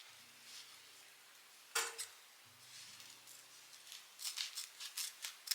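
Scissors snip through ribbon while decorating a Ralph Lauren-inspired Christmas tree, a sharp cut near the middle followed by a run of quick, light snips and rustles toward the end, close and fairly quiet.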